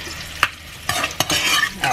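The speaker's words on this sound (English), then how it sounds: "I'm gonna finish sauteing these onions" Onions sautéing in a pan for ground beef tacos, a steady close sizzle with a few sharp stirring scrapes and clacks from a utensil against the pan.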